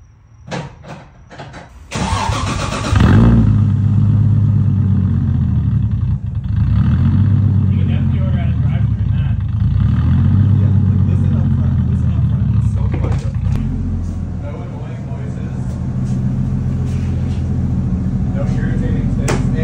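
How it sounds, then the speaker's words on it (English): A Nissan 240 with its muffler refitted starts and runs steadily, a loud low engine drone continuing throughout, with voices talking nearby over it. "listen how quiet my car is now. It sounds stock."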